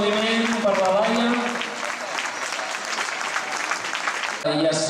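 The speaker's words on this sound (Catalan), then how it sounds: "Bé, un fort aplaudiment per la Laia." Strong applause from the audience at a sports exhibition, steady clapping under a voice that speaks at the start and again briefly at the end.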